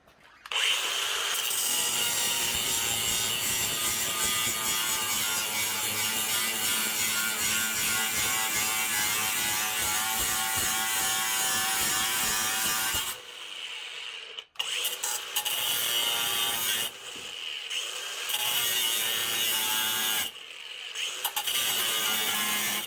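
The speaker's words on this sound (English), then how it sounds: "I'm just going to cut through 2 of these spot welds" Power tool cutting through spot welds on Range Rover body metal, a loud continuous grinding rasp close by for about thirteen seconds, then several shorter bursts separated by brief pauses.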